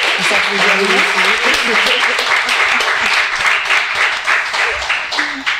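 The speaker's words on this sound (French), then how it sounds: "Je vous invite à applaudir nos invités." An audience applauds guests at a tech business event in Côte d'Ivoire, a loud, dense wash of clapping with voices and cheers mixed in throughout.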